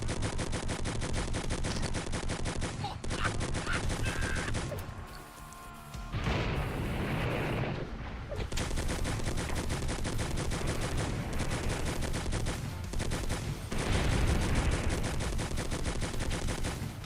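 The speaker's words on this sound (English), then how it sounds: "It locks onto enemies and then it fires at them even if you move out of sight." An automatic turret gun in a video game fires at enemies in rapid, dense bursts of loud gunfire, pausing briefly about a third of the way through before resuming steadily to the end.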